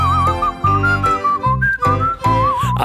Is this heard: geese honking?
no